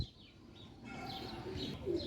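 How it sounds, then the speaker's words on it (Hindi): Soft, low coos of a Teddy pigeon hen sound close by in a quiet setting, with a few faint chirps. "ये आप देखें टैडी कबूतरी है"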